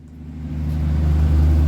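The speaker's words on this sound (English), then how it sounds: "we are locating and trying to fix some of the car's exhaust leaks" A 1982 Ford Granada two-door idles nearby with a leaking exhaust, a steady low rumble that grows gradually louder.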